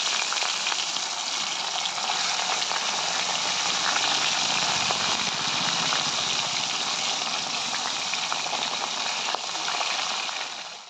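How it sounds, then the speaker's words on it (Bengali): Fish frying in very hot mustard oil, a loud, dense, steady hiss and bubbling sizzle that carries evenly from start to finish without talk. "একদম গরম গরম ছাঁকা তেলে কিন্তু মাছগুলোকে এখন সুন্দর করে ভেজে নেব"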